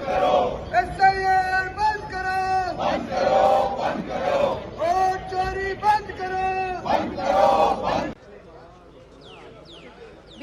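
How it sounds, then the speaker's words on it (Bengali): Opposition MPs chanting slogans in protest inside parliament, a loud crowd of voices shouting in rhythmic repeated bursts, then dropping off to a quieter murmur near the end. "বিরোধী দলের সাংসদরা তারা স্লোগান তুলছেন যে এসআইআর বন্ধ করার স্লোগান দিচ্ছেন বিরোধী দলের সাংসদরা"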